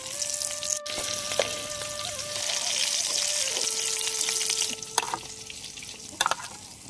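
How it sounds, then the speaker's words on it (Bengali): Oil sizzles steadily as spiny gourd slices fry in a pan, a constant crackling hiss with a few sharp clinks of a utensil. "এখন বাকিগুলো বেসন ছাড়াই বেজে নিচ্ছি।"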